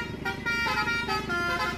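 A Basuri telolet bus horn playing its melodic multi-tone tune in a traffic jam, a loud close chord of rising and falling notes repeating over the idling engine rumble.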